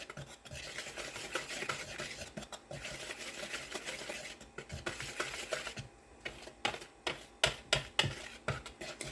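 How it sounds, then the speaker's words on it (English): Whisking flour, cornstarch, baking soda and salt together in a bowl: rapid scraping, rattling strokes of a whisk, steady at first, then breaking into quicker distinct taps near the end. "we just want to whisk that to make sure that we get it all nice and combined"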